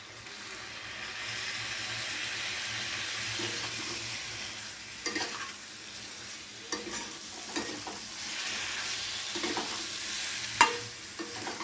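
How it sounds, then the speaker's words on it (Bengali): Spices being stirred and fried in a pan with a splash of water for a dry spiced potato dish, a steady close sizzle with scraping spoon strokes and clinks that grow more frequent in the second half. "মশলার সাথে খুব ভালো করে একবার কষিয়ে নেব সামান্য জল দিয়ে"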